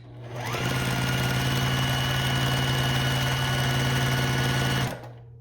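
A sewing machine stitches quilt fabric at a quarter-inch seam in one continuous, close run of rapid, even mechanical hum and rattle lasting about four seconds. The sound rises and then stops sharply, with no voices.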